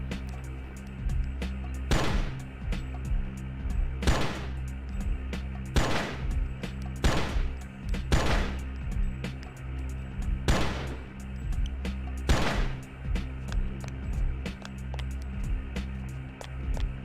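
Gunfire in the video game Oni: loud, sharp shots every second or two over a steady electronic hum, about nine blasts spread across the stretch with no talking.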